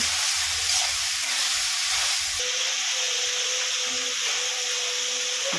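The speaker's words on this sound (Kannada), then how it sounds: "ಹಾಗಲಕಾಯಿ ಹಾಕಿ ಫ್ರೈ ಮಾಡ್ಕೊಳ್ಳೋಣ" Sliced bitter gourd fries in a pan, giving off a steady, broad hiss and sizzle that runs unbroken from start to finish at an even, moderately loud level, with no talking.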